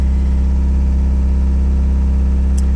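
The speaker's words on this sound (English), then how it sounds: "Chugged a little bit on startup, but that's normal." A Toyota 22RE engine idles steadily just after a cold start, a loud, close, even low hum with a constant drone and no talk over it.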